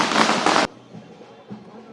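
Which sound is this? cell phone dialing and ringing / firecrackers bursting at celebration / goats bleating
firecrackers bursting at celebration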